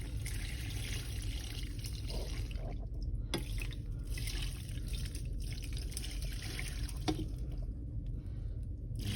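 Water pours and trickles steadily through stacked sieves during wet sieving of sediment, a continuous close splashing flow with occasional drips and small knocks.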